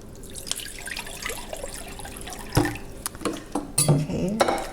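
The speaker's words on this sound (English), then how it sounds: "So I'm putting in some water here." Water is poured into a slow cooker for a bean stew, a soft running splash mixed with clinks of dishes and light drips that grow busier toward the end.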